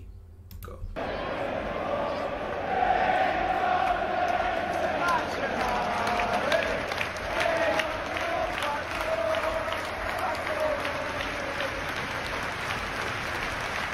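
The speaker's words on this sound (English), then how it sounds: "Great applause, man." Liverpool and Manchester United fans in a football stadium applaud together, a dense, sustained roar of clapping that carries on for about thirteen seconds after an abrupt start, with crowd murmur mixed in.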